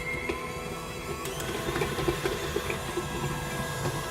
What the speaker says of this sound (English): when creaming your butter and sugar together